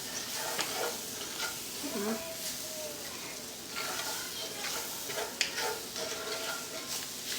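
Steak and flour browning in a pan, giving a steady sizzle and frying hiss throughout with faint scraping and stirring sounds and occasional light clicks.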